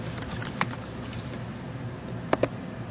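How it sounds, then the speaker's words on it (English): A computer keyboard being typed on sounds as a few sparse, close key clicks, with one early tap and a quick pair near the end over a quiet room hum. "And typing in the email address"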